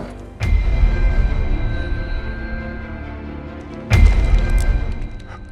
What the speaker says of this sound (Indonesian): mendengar suara ledakan senapan